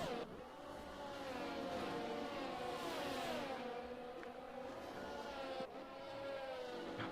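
Aston Martin race cars in a sim racing game at the Bahrain circuit, engines howling steadily with shifting pitch throughout, loud and continuous with brief gear-change dips.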